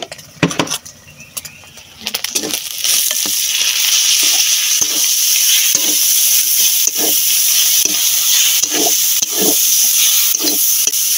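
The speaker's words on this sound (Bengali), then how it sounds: "এদিকে আমার শাক ভাজিটা হয়ে গেল।" Leafy greens frying in a pan in a home Bangladeshi kitchen, a loud steady sizzle broken by repeated scraping and clattering strokes of a stirring spoon, preceded by a few seconds of quieter clinks before the hiss fills in.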